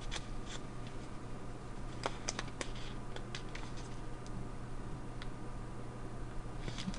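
Origami paper being folded and creased for a Kasahara crawfish model, producing faint, close rustles and sharp little crinkles at irregular intervals over a low steady hum, with no speech.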